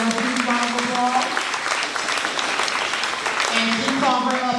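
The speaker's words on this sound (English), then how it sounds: "Let's give her a huge round of applause." Audience at an end of year school ceremony gives a teacher a steady round of applause, dense clapping throughout with a speaker's voice audible at the start and end.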